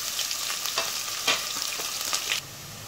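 Chopped onions frying in oil with cumin in a pot, a close, continuous crackling sizzle with occasional louder spits, which drops to a quieter hiss near the end.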